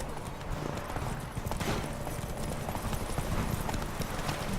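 Roach the horse gallops in The Witcher 3: Wild Hunt, a steady, rapid clip-clop of hooves close by under a low background of ambient noise.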